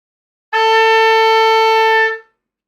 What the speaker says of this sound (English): if we add our second finger, we're going to get A.